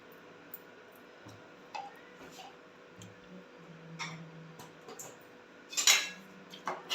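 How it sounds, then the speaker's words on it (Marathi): A spoon stirs bajra khichdi in a pot, giving faint scattered scrapes and soft clinks of metal against the vessel, growing a little louder toward the end with a few sharper knocks, no talking. "खिचडी ढवळून घेते."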